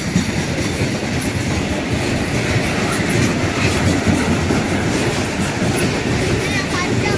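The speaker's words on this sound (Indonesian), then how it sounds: "Oh, kereta api logistik." A long freight train rumbles past close by, with continuous heavy rolling noise and faint wheel clatter throughout.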